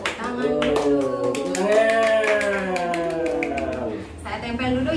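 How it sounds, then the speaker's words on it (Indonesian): An audience at an indoor training workshop on stunting prevention claps, a rapid patter of hand claps running underneath loud, drawn-out voices. "Tepuk tangan dulu."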